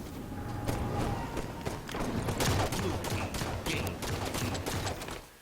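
Video game gunfire crackles in rapid bursts throughout, a dense fusillade of shots with scattered footstep-like clatter, steady and fairly loud with no talking.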